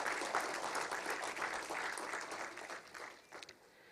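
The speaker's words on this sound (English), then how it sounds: "Let us have a big applause for Dr." Applause from attendees at a stakeholders meeting on weather and climate services honouring Dr. M. Ravichandran, heard as steady, moderately distant clapping that slowly thins out.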